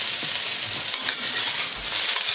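Red peppers and snow peas stir-fried in a hot wok give a loud, steady sizzle with scraping stir strokes throughout.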